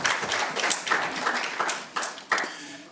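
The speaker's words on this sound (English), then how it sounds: "Yes, another round of applause for our Honourable Minister." Scattered clapping trails off at a press conference after a minister's statement. A thinning mix of individual claps comes in uneven bursts, with a few sharp, isolated slaps standing out.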